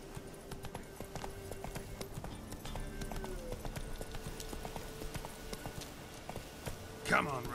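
A horse gallops in The Witcher 3, rapid rhythmic hoofbeats driving on steadily under a man's spoken urging, ending with a brief whinny.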